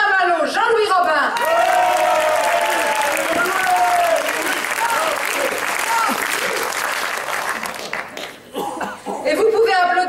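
An audience applauds the candidates at a political event, a full round of clapping that swells and carries on, with a few voices and chuckles mixed in and speech over it before and after.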